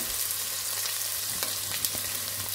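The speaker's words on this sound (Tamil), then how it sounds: "2 வெங்காயம் ஸ்லைஸ் பண்ணி வச்சுருக்கேன், அதை சேர்த்துக்கிறேன்" Two sliced onions fry in hot oil with whole spices for mutton biryani, a steady close sizzle with occasional stirring clicks.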